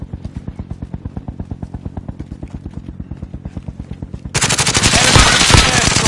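Loud rapid automatic gunfire in a combat shooter game, a long steady burst of evenly spaced shots, then a denser wash of firing and explosions at close range.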